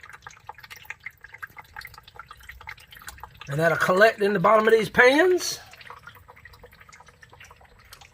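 Excess water drips from a red wiggler worm bin into collection pans below, a faint scattered patter of drops under a man's brief spoken remark.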